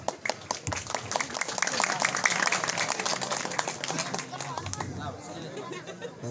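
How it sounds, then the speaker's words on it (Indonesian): A crowd at a comedy performance at a Balinese temple in Bangli claps, with loose rhythmic applause mixed with lively chatter and voices. It swells briefly, then thins out toward the end. "Tepuk tangan buat penabur"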